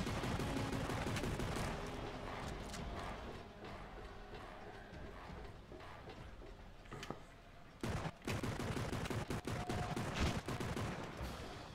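Rapid bursts of gunfire from the video game Darkwatch, dense and continuous with sharp cracks that thin briefly midway, then return loud and clustered toward the end.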